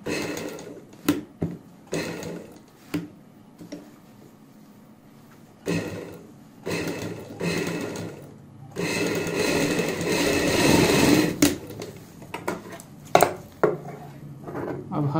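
A sewing machine stitches around a blouse back neck in short bursts, one longer run in the middle, broken by pauses with handling clicks and taps of fabric and tools, close and fairly loud.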